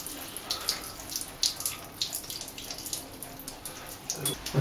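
Water runs steadily from a tap or sprayer, rinsing shampoo off a dog during its bath, a close, continuous splashing hiss with small irregular splatters.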